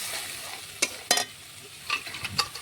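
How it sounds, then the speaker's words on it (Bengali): Chopped tomato and chili powder being mixed with spices in a pan, a low simmering sizzle punctuated by a few loud spatula scrapes and clacks in quick clusters, close and without speech. "দেখুন দিয়ে দিলাম টমেটো কুচি, দিলাম ঝাল লঙ্কার গুঁড়ো, ভালোভাবে মশলার সাথে মিশিয়ে নিচ্ছি।"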